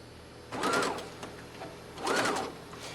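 A sewing machine stitching a seam on a doll dress in two short, quick bursts of rapid mechanical whirring, close and clear, separated by a pause.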